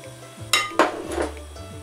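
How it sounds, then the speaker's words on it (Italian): Cherry tomatoes drop into a dish of cut potatoes in a home kitchen, two distinct clattering thuds followed by lighter rustling knocks against the bowl, close and clear with no talk. "ora aggiungiamo i pomodorini"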